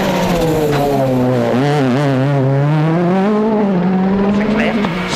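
A works WRC rally car, Petter Solberg's number 4, drives a Monte Carlo stage in 2012, its engine note climbing and falling steadily and loudly, with a commentator talking over it throughout.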